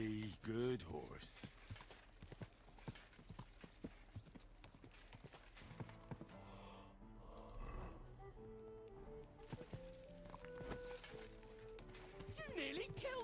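Horse hooves clip-clopping in the medieval game Kingdom Come: Deliverance 2, a steady run of hoof beats over background music and game sounds, with a voice speaking over part of it.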